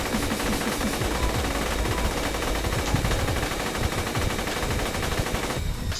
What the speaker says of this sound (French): J'adore la cadence de tir de ces fusils d'assaut